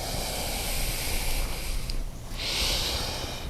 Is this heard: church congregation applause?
no